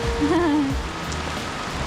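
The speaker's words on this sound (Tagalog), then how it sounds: "Ay, it's raining." Rain falls steadily on a beach in Boracay, a dense hiss of drops, while a brief voice is heard at the start.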